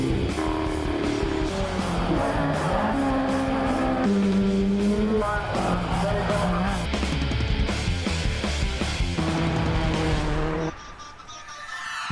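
A Ford Fiesta rally car, driven flat out on a stage of Rally Otago in New Zealand, screams continuously at high revs, climbing and dropping through gear changes up close, then the roar cuts away at the end.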